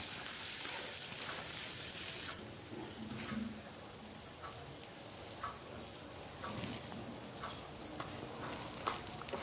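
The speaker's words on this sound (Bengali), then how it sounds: "এবার এই টমেটোটা এর মধ্যে দিয়ে টমেটোটা সেদ্ধ হওয়া পর্যন্ত নাড়াচাড়া করে আমি রান্না করব" Chopped tomatoes and slit green chillies frying with onion in a pan for a loitta fish curry, a continuous close sizzle broken by scraping stir strokes, with no talking.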